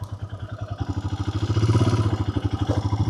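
A motorcycle rides slowly along a rough, steep, uneven hill road near Cherrapunji in Meghalaya. Its engine thuds in a steady, close pulsing rhythm that swells a little midway, with a faint rattle and no talk.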